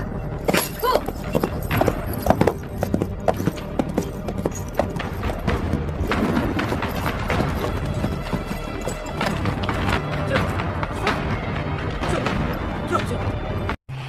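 Soldiers riding horses through a desert, hooves clip-clopping fast and irregular with clattering impacts and a brief whinny, loud and close across the whole stretch.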